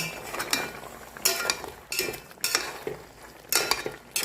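Tomato paste and tomato sauce get stirred into chicken afritada in a pot, a series of loud spoon scrapes and clatters against the pot in uneven bursts over a soft sizzle, no voices.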